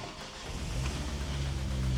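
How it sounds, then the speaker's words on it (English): A car engine idles with a steady low rumble and a smooth, even purr, close by and continuous. "At least we can hear the engine. That purr's all right, doesn't it?"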